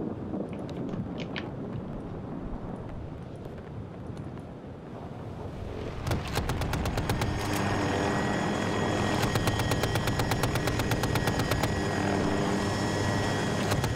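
Helicopter in the Battlefield 2042 video game, a loud steady rotor roar with wind-like rush, joined midway by rapid, evenly spaced machine-gun fire that continues to the end, with no talk.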